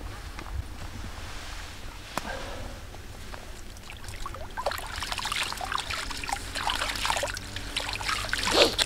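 A caught carp let go back into warm river water while fishing on the Dniester. After a quiet start with a few small drips, irregular close splashes and sloshing build up and grow louder toward the end.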